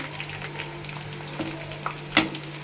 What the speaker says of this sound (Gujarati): પછી આ આંબલિયા ભજીયા છે એને આપણે તળી લઈએ